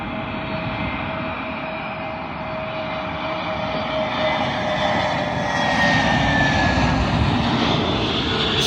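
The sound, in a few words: British Airways A320neo jet arriving at London Heathrow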